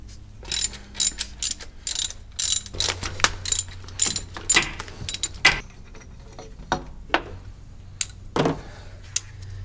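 A ratchet wrench clicks in quick bursts while loosening the 13 mm bolts on the thermostat housing of a RAM 1500 pickup. Close, crisp ratcheting repeats in short runs with brief pauses, and no one speaks.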